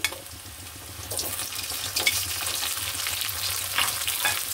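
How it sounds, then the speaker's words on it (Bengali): An egg frying with onion and cardamom in a pan, with a steady sizzle and repeated scraping stirs that bring louder bursts of crackling oil, close and alone without talk. "পেঁয়াজের সাথে আমার ডিমটা ভাজা হয়ে যাবে"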